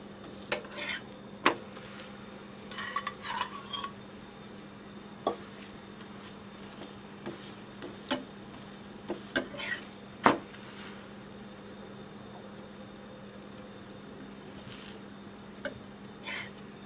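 A spinach paratha cooks on a hot griddle with oil spread on both sides, giving a soft, quiet sizzle under a low steady hum, broken by scattered sharp utensil clicks and taps.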